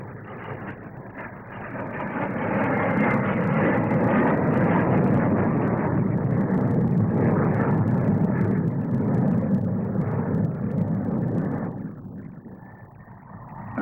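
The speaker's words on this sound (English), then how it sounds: "Another of the Avro Vulcans, the world's first delta-wing four-jet bombers, takes off to show its maneuverability and its general lines." An Avro Vulcan, a delta-wing bomber with four jet engines, takes off at the 1957 SBAC air display at Farnborough. It gives a loud, sustained roar that swells and then fades slightly toward the end.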